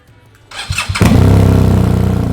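A motorcycle engine starts with a few sputters, then settles into a loud, steady, throbbing exhaust rumble close by.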